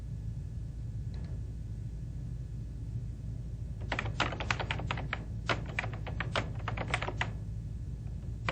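Typing on a computer keyboard while entering new text in a Word 2000 document, a brief faint tap early on, then a burst of quick irregular keystrokes over a low steady hum.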